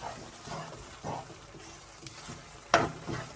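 Semolina halwa is stirred and roasted in a pan, with soft scraping strokes at irregular intervals over a low sizzle and one sharper clink near the end.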